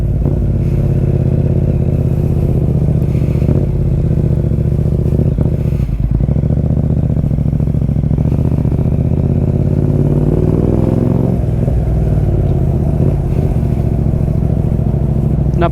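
Yamaha MT-07 motorcycle riding on a first big-bike outing, its engine droning loud and steady throughout with rising and falling revs, close wind rush and occasional clatter.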